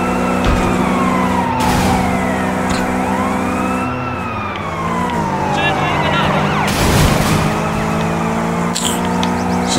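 Police car sirens wail and sweep in the open-world driving game Sleeping Dogs: Definitive Edition, loud and overlapping as pursuing cruisers close in, with engine and crash noise mixed underneath.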